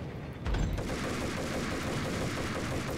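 Beretta pistol fire in the video game Max Payne, a sudden loud burst followed by rapid continuous gunfire and booming combat noise throughout, no talking.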